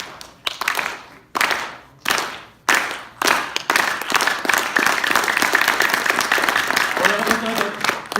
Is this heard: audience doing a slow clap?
yes